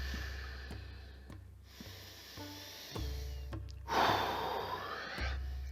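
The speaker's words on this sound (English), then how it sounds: "I'm going to start by breathing." Slow, deep breaths drawn in and let out during seated meditation, soft and close, with a fuller exhale near the end and no talking.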